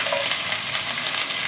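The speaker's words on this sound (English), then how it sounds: "Give them a quick stir." Zucchini and squash stir-fried with garlic and pepper give a loud, dense sizzle close by, with the scrape and rustle of quick stirring running through the whole brief moment.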